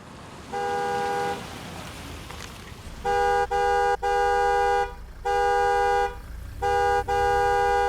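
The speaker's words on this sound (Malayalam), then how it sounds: "എത്ര നേരമായി ഹോൺ അടിക്കാൻ തുടങ്ങിയിട്ട്?" Car horn honking in repeated long blasts, one early toot then several sustained, loud honks in an insistent, uneven rhythm, close by with no talk.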